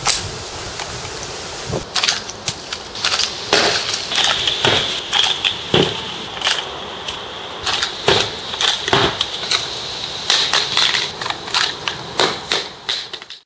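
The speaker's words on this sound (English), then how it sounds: "we've smashed and dropped and crushed it about 20 times now" A PTS Enhanced Polymer Magazine takes repeated sharp, loud impacts as it is smashed, dropped and crushed, the cracking thuds coming in irregular bursts, sometimes clustered, sometimes spaced apart, throughout.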